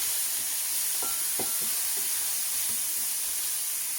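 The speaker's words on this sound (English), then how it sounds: "just add a bit more water to give it a bit of steam" A pan sizzles and hisses steadily with steam as water is added to cooking broccoli, a constant bright crackle with a few soft clinks, close and without talk.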